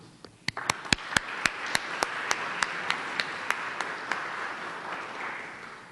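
A small audience applauds steadily, with a few sharp individual claps standing out above the softer clapping for several seconds.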